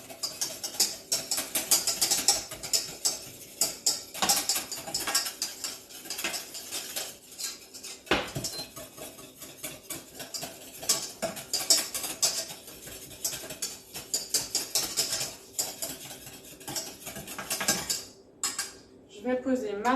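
Financier batter for mini coconut-pineapple financiers gets mixed in a bowl, with busy clattering and scraping of a utensil against the bowl in quick rhythmic bursts throughout, fairly loud and close.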